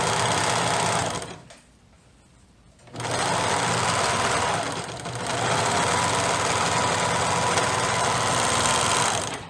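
A serger-style sewing machine stitching the hem of a baby jumper runs loud and close with a steady high whirring hum, pauses for about a second, then stitches on continuously.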